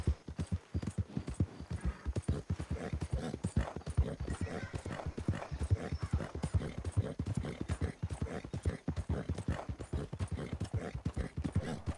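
Horse hooves clip-clop steadily in the Red Dead Redemption 2 video game, a rapid, continuous rhythm of close, distinct hoof strikes on the ground lasting the whole stretch, with no talking.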